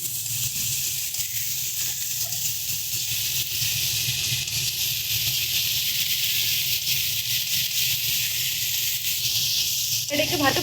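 Spices fry in a pan with salt for a rohu fish curry, giving a steady, even sizzle that runs throughout, with a brief stirring clatter near the end.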